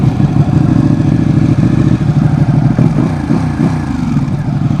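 A Ducati Panigale 959 motorcycle with an aftermarket exhaust rumbles loud and close in a steady, throbbing idle with slight rhythmic fluctuations.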